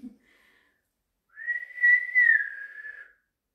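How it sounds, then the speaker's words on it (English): A person whistles inside a pub in Willenhall, a single sustained clear tone with a slight rise and fall held for about two seconds, alone in near silence. "Shall I whistle?"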